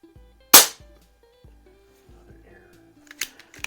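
A single sharp crack from a Hatsan Jet 2 .177 air rifle rings out near and loud, followed by a few fainter clicks and snaps from handling the gun.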